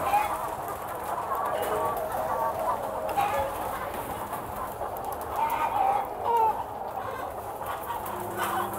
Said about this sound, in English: So we just found this hen here.